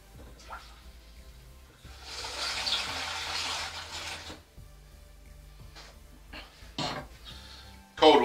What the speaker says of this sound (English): Throw in a load more water.